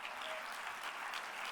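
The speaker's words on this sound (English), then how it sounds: "that's worth clapping for." Applause from an audience at a talk, a brief burst of dense, even clapping heard from a distance, without voices.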